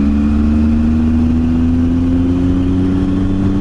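A car pulls away from a plaza in Ajo, Arizona, its steady mid-pitched engine hum rising slightly in pitch as it gains speed, loud and close with a constant low rumble and no talking.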